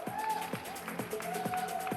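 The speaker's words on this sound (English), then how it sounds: "let's have a big round of applause for her" Applause from an audience at a talk event on female genital cutting as a guest is called onto stage, steady clapping over about two seconds with a faint background voice and sharp percussive thumps.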